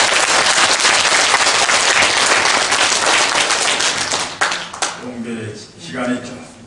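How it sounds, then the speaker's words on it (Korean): An audience at a lecture claps loudly and vigorously for several seconds. The applause thins out and fades, and a voice speaks as it dies away. "한번 힘찬 박근혜 박수 한번"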